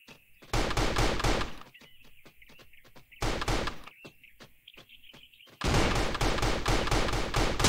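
Gunfire in the video game Battle Royale: Survivors comes as loud, rapid automatic bursts in three long volleys, with scattered single shots and a tonal game effect between them.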